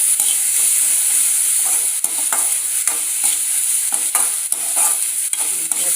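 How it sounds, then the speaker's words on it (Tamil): Beetroot chutney ingredients with salt and asafoetida sauté in a pan, a continuous bright sizzle with regular scraping stirs of a spatula every half second or so, close and alone without talk. "நல்லா வதக்கணும்."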